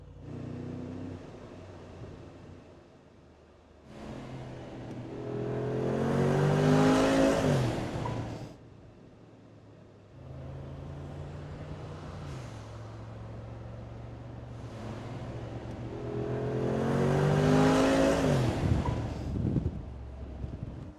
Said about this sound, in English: let's actually drive this car around